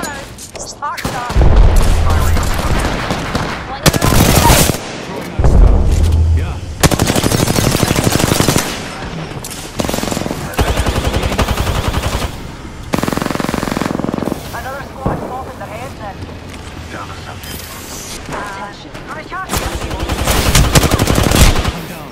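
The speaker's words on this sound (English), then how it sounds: "The second squad is firing at us." Sustained bursts of automatic gunfire from a squad in a cave-brawl video game, loud and close, in repeated long volleys with brief gaps, while voices talk over the shooting.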